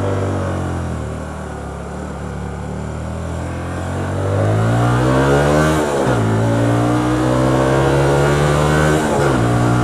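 A Hyosung GT125R motorcycle accelerates uphill with a loud, close engine note climbing in pitch through the gears, dipping briefly at shifts before revving up again.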